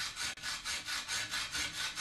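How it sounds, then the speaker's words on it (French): Rhythmic back-and-forth rasp of a small saw blade cutting a slot into a broken screw in a metal casing, about eight even strokes, close and unaccompanied. "La première astuce, c'est avec la lame de scie."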